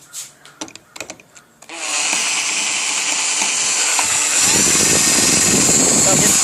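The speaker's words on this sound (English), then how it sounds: "So just drill right through" Power drill boring through a Master padlock: a few short knocks and handling sounds, then a loud, steady high-pitched whine that holds for several seconds and grows heavier and grindier near the end.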